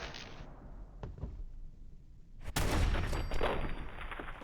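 Gunfire in Fallout 4 during modded survival play: a few sharp reports near one second, then a loud close burst from about 2.5 seconds that rings on with a noisy tail, no talk.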